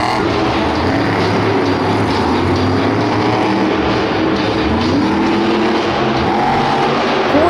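Megalodon monster truck at Monster Jam Houston, a loud continuous engine roar rising and falling as the truck revs and jumps, close and sustained, with arena noise underneath.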